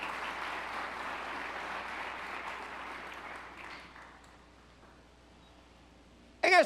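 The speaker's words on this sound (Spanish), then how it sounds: "Dele un fuerte aplauso al Señor" A church congregation applauds during a Spanish-language service, a broad wash of clapping that fades gradually over several seconds into near quiet, ending with a brief sharp noise.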